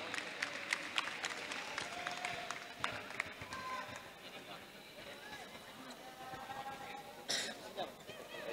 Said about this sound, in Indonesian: Sekali lagi berikan aplaus yang meriah untuk Coach Bilal